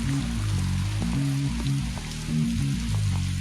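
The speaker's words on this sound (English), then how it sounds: "I've told them the rain was coming, and the rain is here." Heavy driving rain pours down in a dense, continuous patter with scattered drop hits, accompanied by a low tonal hum.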